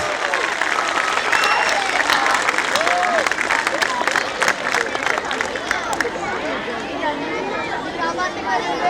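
A school audience at an annual day function gives a big round of applause for the teachers after an energetic performance, loud dense clapping with cheers and crowd chatter that gradually thins toward the end.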